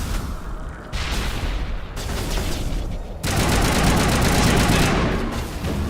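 Sniper and weapon fire in the video game Mass Effect Legendary Edition, a dense, loud burst of gunfire and booming blasts that grows heavier in sustained waves, with no talking.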